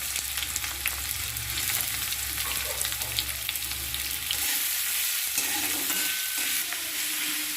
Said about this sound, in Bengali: পেঁয়াজটা ভালো করে লাল লাল করে ভেজে নিচ্ছি।